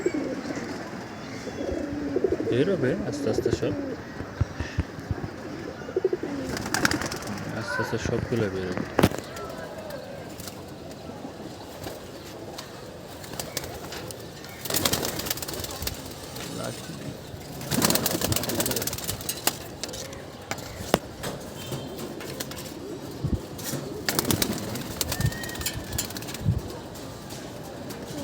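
Pigeons in a sky pigeon loft coo and call as birds gradually leave the loft, with occasional wing flaps, under close, near-continuous talk from a man nearby.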